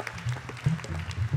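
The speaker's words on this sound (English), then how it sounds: "Please clap for them." An audience at a Bhagavat Katha gathering claps for a couple's 35th wedding anniversary, the applause faint and somewhat distant, rising in brief soft swells over a low hum.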